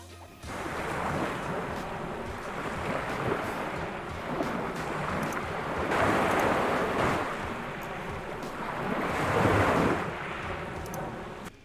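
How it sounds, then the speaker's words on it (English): Continuous rushing surf with swelling, crashing waves and some wind noise, steady and fairly loud with no voices. "we are going to look for ocean sounds. So ocean ambience, pretty cool."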